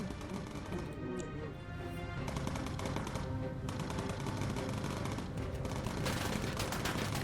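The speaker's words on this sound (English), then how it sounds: "Got anti-aircraft firing at me too." Anti-aircraft guns fire in the WW2 bomber simulation game Bomber Crew, a dense, loud, continuous rattle of rapid shots and bursts throughout.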